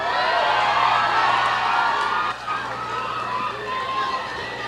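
A large crowd at an evening campaign rally in Davao City claps and cheers in a continuous, loud, roaring wash with scattered shouts.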